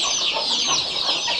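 Country hens cluck and chatter steadily, close and fairly loud, a busy overlapping poultry-yard din with no voices.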